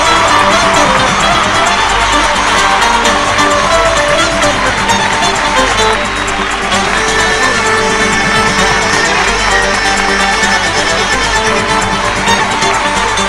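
Audience applause welcoming a contestant on a singing competition show, dense continuous clapping and cheering from a large crowd, loud and steady throughout.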